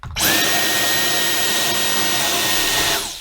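A Dyson vacuum cleaner runs steadily with an attachment tool fitted, a loud, close, continuous whine with a high steady tone, starting abruptly and winding down at the end.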